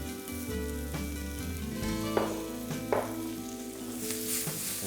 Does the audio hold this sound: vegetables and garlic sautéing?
yes